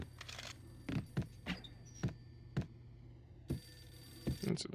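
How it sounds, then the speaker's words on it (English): A telephone rings in the Max Payne video game, a series of short, evenly spaced rings that are faint and quiet. "Answer the phone."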